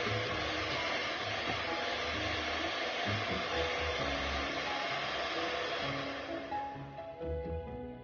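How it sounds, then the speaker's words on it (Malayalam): An electric hand mixer whips egg whites with sugar for a chocolate sponge, a steady continuous motor whir that holds close and loud for most of the clip before its pitch shifts slightly near the end. "എന്നിട്ട് നല്ല തിക്കാവുന്നവരെ ഒന്നുകൂടെ ബീറ്റ് ചെയ്യണം."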